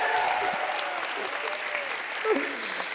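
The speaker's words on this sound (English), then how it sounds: "round of applause for our outfits" A TEDx event crowd in London claps steadily for about three seconds, dense and fairly close, with faint cheering and voices mixed into the applause.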